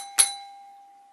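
A single bright notification bell ding strikes once, clean and close, then rings out with a long sustained tone fading over the next second, alone with no talk.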